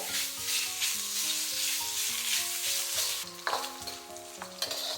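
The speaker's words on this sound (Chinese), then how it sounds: "将锅烧热，不需要加油，下入五花肉，给它煸炒出肥油。" Pork belly pieces stir-fried in a hot, unoiled wok, rendering their fat: a continuous loud sizzle with scraping stirs, and a sharper burst of spatula clatter partway through.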